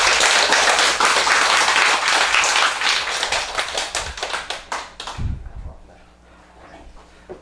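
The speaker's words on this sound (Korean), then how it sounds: "박수 크게 한번 쳐보세요." An audience at a Korean lecture on Buddhist scripture claps loudly in a thick burst that thins to scattered individual claps and stops after about five seconds, leaving a quiet room.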